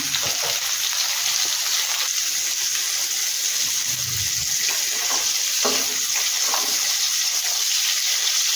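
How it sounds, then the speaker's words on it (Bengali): Bitter gourd pieces fry in hot oil with a steady, close sizzle that holds throughout, broken by a few soft stirring clatters and scrapes. "এটাকে লাল লাল করে ভেজে নিই।"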